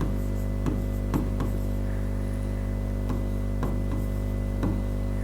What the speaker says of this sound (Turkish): Sonucu yazıyorum.